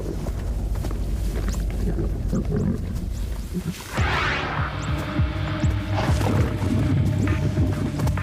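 Lions attack a buffalo in the wild, with loud continuous roaring, growling and thrashing that builds after a brief lull, a dense and close struggle throughout.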